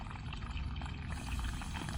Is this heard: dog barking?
no